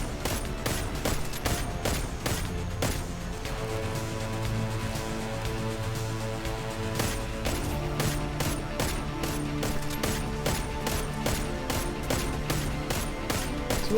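Scout rifle fire in Destiny 2: sharp, evenly spaced shots repeating steadily for about fourteen seconds over a droning, tonal game soundtrack, with no talking.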